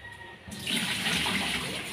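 Tap water starts running midway, becoming a loud, steady splashing close by as vegetable shoots are washed, with a few quiet clicks beforehand.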